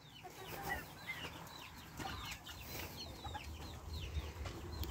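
Chickens and half-grown chicks in a garden coop, heard faintly as scattered soft clucks and high chirps over low background noise.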